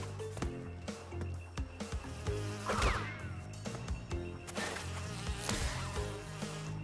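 Bees buzz in Crash Bandicoot N-Sane Trilogy amid busy game music and sound effects, a continuous insect drone with sharp hits and chimes layered over it, no speech.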